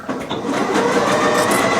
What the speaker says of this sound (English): so I'm just going to sew it on like this